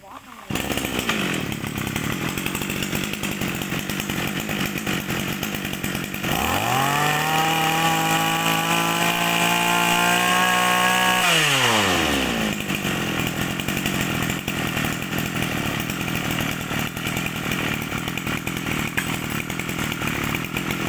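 A Japanese Komatsu brush cutter engine runs at a steady idle, then revs up to a high whine for about five seconds before dropping back to idle. It is loud and close, with a voice speaking at times over it.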